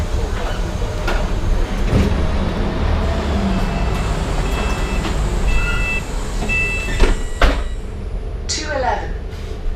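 Inside a moving London bus, a constant low engine and road rumble carries on with rattles, a couple of sharp knocks and brief squeaks near the end, and chatter in the background.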